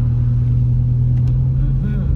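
A car drives on snowy roads beside Big Bear Lake in California, its engine and road noise a steady, loud low rumble heard from inside the cabin, continuous throughout with no obvious changes in speed.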